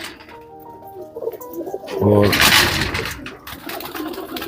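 Show pigeons at a champion breeder's loft in Jaipur give a loud, close burst of throaty cooing after a brief word from a man, then the cooing keeps murmuring underneath.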